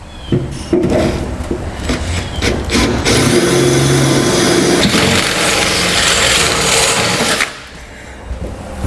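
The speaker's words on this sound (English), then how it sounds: "we can begin the process to enlarge all 4 of the holes to the final size" A drill enlarges holes through a steel cross member and truck bed on a Ram 2500, whining loudly and continuously for several seconds up close before winding down.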